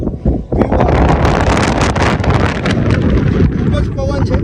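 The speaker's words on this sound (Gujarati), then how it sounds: "ખૂબ જ પવન છે." Strong wind buffets the microphone on top of Bhayasara hill, a loud continuous roar with gusty rumble that fills the clip from start to finish.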